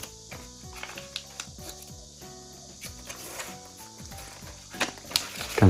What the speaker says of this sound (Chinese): 上下边折向中间的折痕